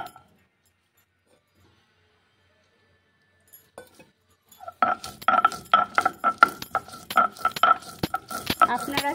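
Spices ground together on a Bengali shil-nora grinding stone for shukto: after about five quiet seconds, a close, steady run of rough scraping and clinking strokes starts and keeps going to the end with no talk.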